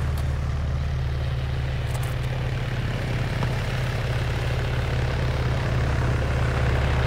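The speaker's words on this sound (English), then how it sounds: "Chopper coming in." A helicopter approaches in the video game ArmA 3, a loud, continuous low rotor and engine drone filling the whole stretch with no voices.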